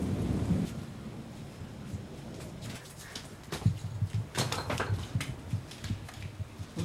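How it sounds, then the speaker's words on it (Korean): Rain patters and splashes on surfaces during a thunderstorm, with a deep rumble at first and then denser, crackling drops, all without speech. "갑자기 비가 내리기 시작했다."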